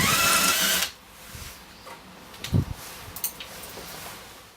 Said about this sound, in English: As you can see, I've took the heads off the rivets